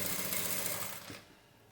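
A sewing machine stitches a ready-made kurti in a quick steady whir that stops about a second in, close and fairly quiet.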